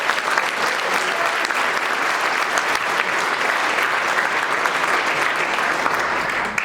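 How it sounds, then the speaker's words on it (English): A crowd applauds steadily and loudly throughout, a dense wash of clapping with no pauses. "Let's give a round of applause."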